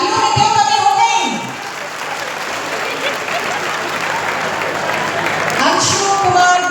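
Audience at a student merit award ceremony in Jharkhand clapping continuously, a dense, loud round of applause that thins slightly midway and swells again toward the end, with a voice over it.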